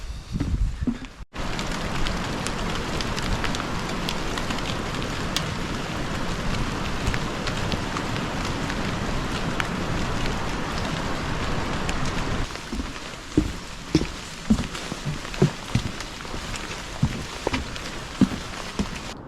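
Steady rain falls in a forest near Ucluelet, BC, in a constant hiss, with louder individual drips pattering nearby toward the end.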